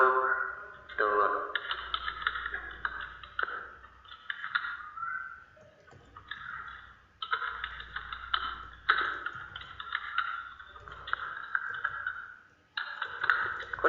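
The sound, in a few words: typing data on a computer keyboard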